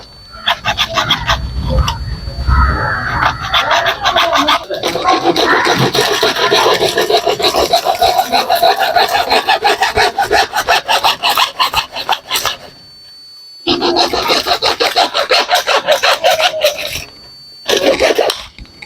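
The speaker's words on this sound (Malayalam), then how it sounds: "അപ്പോൾ ജസ്റ്റ് അതുപോലെ നമ്മൾ ആക്സ് ഇട്ടാണ് കട്ട് ചെയ്യുന്നത്." Old PVC pipe is sawn by hand with a hacksaw, making a loud rapid rasping of back-and-forth strokes in long runs, with two short pauses before the sawing starts again.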